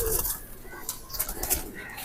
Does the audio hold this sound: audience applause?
no